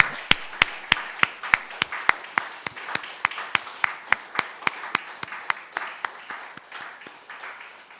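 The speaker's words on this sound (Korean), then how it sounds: "교사들이 이제 다시 한번 입장할 때에 여러분 큰 박수로 축하해 주시기 바랍니다" Steady, evenly spaced rhythmic clapping from a church congregation as teachers walk in for a graduation during a Sunday service, each clap sharp and distinct, continuing for several seconds at a moderate level.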